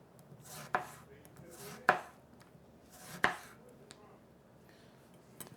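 Knife slicing citrus fruit on a cutting board, three distinct sharp thunks evenly spaced, followed by a fainter fourth cut, close and clear with no talking.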